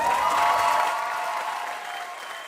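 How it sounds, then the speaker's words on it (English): An indoor crowd at a municipal election night event breaks into warm applause, dense steady clapping from many hands that slowly fades over a couple of seconds. "je trouve que ça mérite une main d'applaudissement"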